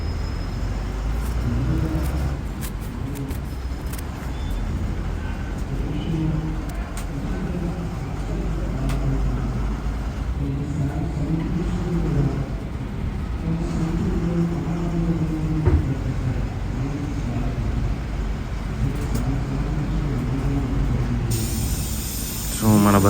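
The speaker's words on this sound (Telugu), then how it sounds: "సో ఇప్పుడైతే మన బస్సు అయితే ఆర్మూర్ నుంచి అయితే స్టార్ట్ అయిపోయింది." A TGSRTC Lahari non-AC sleeper-cum-seater bus pulls out of the Armoor bus stand, its engine droning low and steady with road rumble and cabin rattle, heard from inside throughout.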